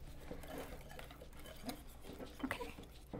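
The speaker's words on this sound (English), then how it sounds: "Now I'm going to just whisk that in." Batter for air-fryer garlic cauliflower (Lasuni Gobi), seasoned with garlic, garam masala and salt, is whisked in a bowl, giving a steady close wet patter and light scraping throughout.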